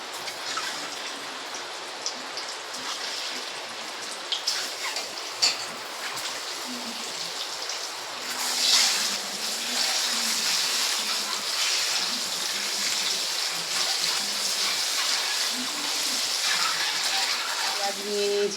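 Eggs frying one by one in hot oil seasoned with turmeric and salt for a Bengali raw-mango egg curry, giving a steady close crackling sizzle that swells partway through, with no talk.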